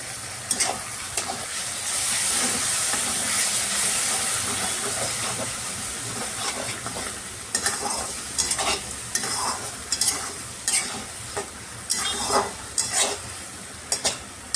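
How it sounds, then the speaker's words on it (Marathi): Tomato puree sizzles and fries in hot oil for a chicken curry, a steady hiss broken by repeated sharp scraping clicks of a spoon stirring against the pan, close and fairly loud. "आता हे छान आपल्याला तेल सुटेपर्यंत चांगलं शिजवून घ्यायचं आहे"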